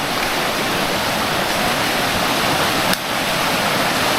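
Deep, strong river water rushes past close by in a loud, steady roar that never lets up, with one brief dip in the flow partway through.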